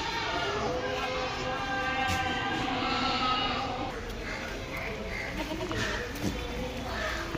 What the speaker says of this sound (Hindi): सब बकरी है